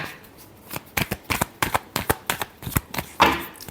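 Tarot cards are shuffled by hand close up, a quick run of crisp flicking riffles and snaps in an irregular rhythm, ending in a slightly longer burst.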